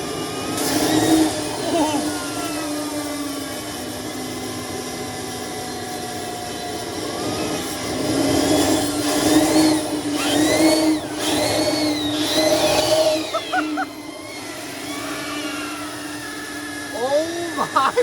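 A homemade turbo furnace roars loudly after a shot of nitrous, a harsh broadband rush that swells and surges, with people shouting and talking excitedly over it.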